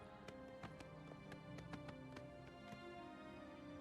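Horse hooves clip-clop at a gallop in Oblivion Remastered on the Switch 2, a faint, steady run of quick hoofbeats in an uneven rhythm with no speech.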